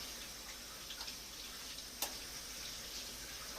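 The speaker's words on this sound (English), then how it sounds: "Just one piece of celery, and I'm going to wash it before I start to cook it." Faint tap water runs steadily over a piece of celery at a sink, with a few soft clicks and one sharp knock partway through.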